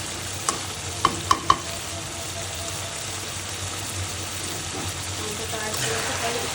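Whole garlic frying with chicken for a Bengali-style chicken curry, a continuous sizzle and bubbling in the pan with a few sharp clinks of a utensil early on, no voices.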